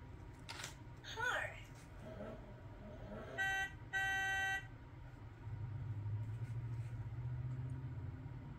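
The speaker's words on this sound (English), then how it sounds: "Let's hop in the car and go for a ride." A toy sound book plays a car effect: a few short bright horn beeps followed by a low steady engine hum, with a narrator's voice over and around it.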